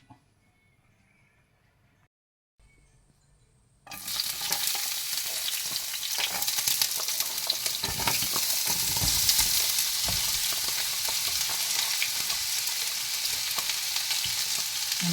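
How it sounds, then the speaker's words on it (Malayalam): Onion, ginger and garlic sautéing in a hot pan, a steady loud sizzle that bursts in after a few seconds of near silence and then holds without a break. "പാൻ ചൂടായി സവാള ഇഞ്ചിയും വെളുത്തുള്ളിയും ഒന്ന് വഴറ്റാൻ വേണ്ടി അതിനകത്തോട്ട് ആഡ് ചെയ്തിട്ടുണ്ട്"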